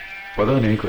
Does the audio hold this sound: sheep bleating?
yes